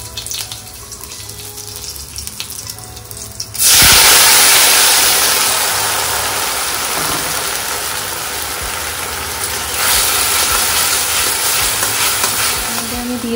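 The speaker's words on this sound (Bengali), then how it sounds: "হয়ে গেছে তেল গরম, আমি এর মধ্যে দিয়ে দেবো কালো জিরে, ফোড়ন আর তার সাথে কাঁচা লঙ্কা।" Nigella seeds and green chilies dropped into hot oil for tempering, a sudden loud sizzle that bursts in and keeps crackling steadily, swelling again toward the end, with no talk.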